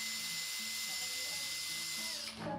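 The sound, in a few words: drill buffing with polishing pad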